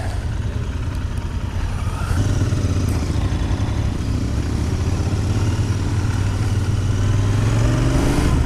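Motorcycle engine, a Harley or Royal Enfield, running steadily while riding, with a loud continuous low rumble that swells slightly as the bike accelerates, close to the rider and without talk.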